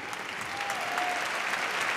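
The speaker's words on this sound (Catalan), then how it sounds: "Aplaudiments." Steady audience applause at a university graduation ceremony, a continuous wash of many hands clapping from a large crowd, with no talking over it.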